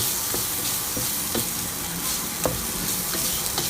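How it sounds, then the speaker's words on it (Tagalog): Ingredients for molo soup sauté in a hot home-kitchen pan, a steady close sizzle and fry with a few sharp stirring clinks and scrapes on top. "Isahin nyo lang yung mga lahog-lahog."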